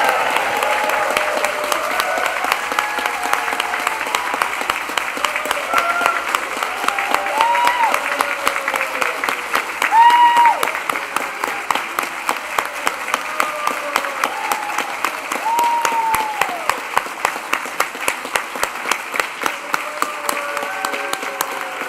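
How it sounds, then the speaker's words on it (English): A large crowd at a university graduation ceremony applauds loudly and continuously, with scattered cheers and whoops rising over the sustained clapping. "Let's raise the roof with a huge cheer and round of applause."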